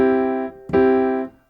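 Two piano chords played without the sustain pedal, each cut off cleanly: the first rings briefly and stops, then a second chord sounds and fades out within about half a second.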